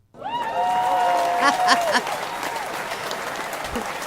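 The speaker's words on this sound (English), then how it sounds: "Let's give them a big round of applause to welcome them on the air." Studio audience applause welcoming three guests onto a talk show about walking after paralysis, a dense burst of clapping that swells quickly and then holds steady, with a voice and some cheering tones rising over it near the start.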